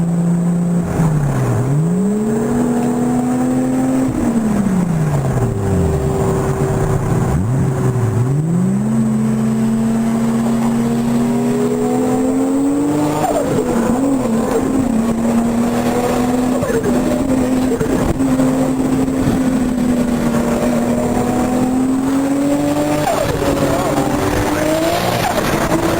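Two Lamborghini Murcielago sports cars rev and drive past, their engine pitch rising and falling through gear changes and throttle blips, loud and continuous for most of the stretch, with people talking over the engines.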